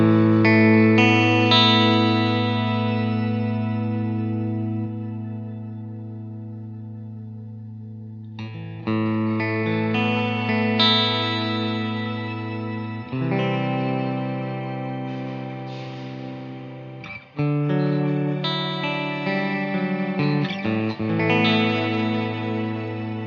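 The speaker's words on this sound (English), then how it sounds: "And we've got an octo reverb." Played through a Line 6 DL4 MkII octo reverb, a guitar rings out in sustained chords with shimmering octave-up layers, several strummed phrases each blooming and slowly decaying, loud and close with no voices.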